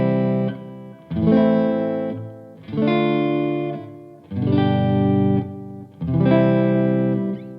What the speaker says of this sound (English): A chord progression will sound like this.